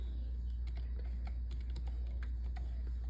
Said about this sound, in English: And then we are going to type in the name.